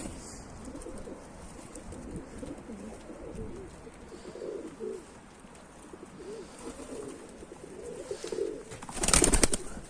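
Pigeons coo softly and repeatedly nearby over faint background noise, ending with a sudden flutter of wings.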